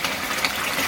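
Water splashes and gushes steadily into a wetland filter box, a close, loud, continuous wash of churning water.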